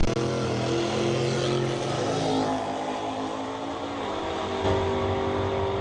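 Cars launching side by side in an ET bracket drag race at Interstate Raceway in Bismarck, North Dakota, with a Camaro in the right lane; loud, steady engine roar and revving persists throughout, dense and sustained.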